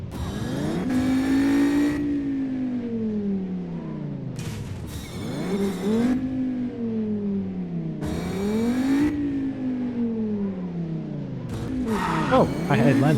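A car in a video game drives and revs with a loud, continuous engine drone that climbs and falls through several gear shifts, and now and then the throttle is briefly cut.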